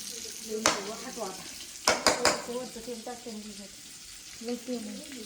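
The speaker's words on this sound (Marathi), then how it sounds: "मम्मीने हा काळा मसाला तेलामध्ये टाकलाय" Black masala frying in oil for a mutton gravy on a wood-fired chulha: a steady sizzle punctuated by several sharp clinks and scrapes of stirring in the pot, with voices talking over it.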